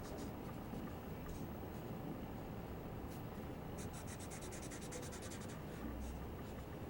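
Grayscale marker strokes rubbing across drawing paper while shading tones, a steady quiet scratchy scribble with brief bursts of faster back-and-forth strokes, close and alone.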